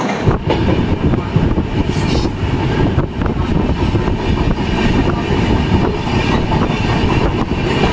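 The Himgiri Express passenger train (12331, Howrah to Jasidih) runs at speed with a constant loud, close rumble and steady clickety-clack of wheels over the rails, with no talking.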